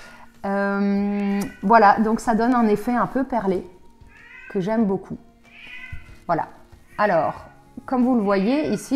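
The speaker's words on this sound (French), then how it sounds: "c'est mon chat qui râle" A domestic cat complains with a meow near the start, then someone talks over most of the rest at a knitting table.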